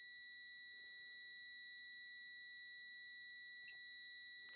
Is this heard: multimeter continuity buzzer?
yes